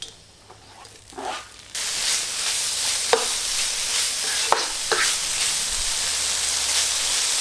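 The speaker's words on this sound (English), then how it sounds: "stir fry the bacon about 2-3 minutes" Bacon sizzles in a tablespoon of oil in a pot for pasta sauce, a steady broadband hiss that swells after a quiet opening, with a few sharp scrapes or pops of stirring; no talking.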